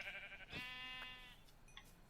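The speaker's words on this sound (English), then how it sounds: "I found another sheep." A Minecraft sheep lets out one drawn-out bleat, quiet and alone, with a brief fainter sound near the end.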